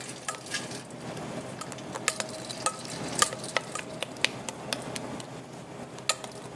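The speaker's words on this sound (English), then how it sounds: "we're going to try to press this through the strainer" Pastry cream for chocolate eclairs being pushed through a metal strainer into a bowl, making a steady wet scraping and stirring sound close by, with repeated sharp ticks of utensil on mesh and no talking.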